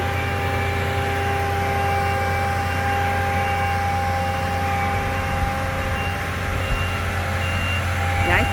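Heavy equipment driven off a trailer ramp: a loud, continuous diesel engine rumble with steady tonal reversing beeps carried over it throughout, close by, and a faint voice briefly in the background.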